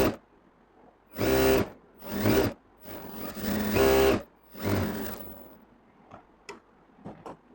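Sewing machine stitching a kameez, heard as four loud bursts of running stitches with short pauses between them, followed by a few faint clicks and taps near the end.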